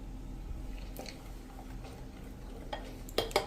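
Millet dosa batter, with soda and lemon juice just added, being stirred in a bowl: quiet wet squishing and scraping, ending in a few sharp spoon clinks against the rim.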